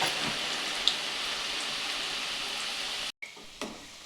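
Small amla gooseberries frying in hot oil on low heat, a steady close crackling sizzle with scattered pops, briefly cut off near the end before resuming.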